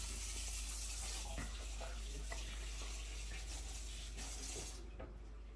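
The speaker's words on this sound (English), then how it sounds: "wash my hands for a second" Water runs steadily from a kitchen tap while someone washes their hands. The flow is faint, with a low hum and a few soft splashes and clinks, and it drops away near the end.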